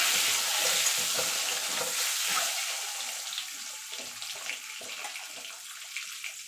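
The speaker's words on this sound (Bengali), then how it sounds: "দেখুন বন্ধু ডিমগুলো ভাজা হয়ে গেছে তুলে নেবো" Eggs frying in oil in a pan, a close, loud crackling sizzle that gradually thins out with scattered pops and stirring scrapes.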